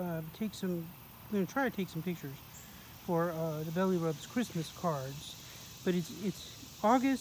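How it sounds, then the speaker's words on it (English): Cicadas buzz on a hot August day, a faint, steady high-pitched drone running beneath a person talking throughout. "You can hear the cicadas in the background."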